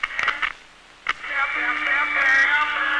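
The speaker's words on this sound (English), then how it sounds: "current causes this radio to produce sound until I remove the voltage." A radio produces sound when voltage is applied, with brief clicks followed by a steady, somewhat tinny tone and broadcast noise after a short silence.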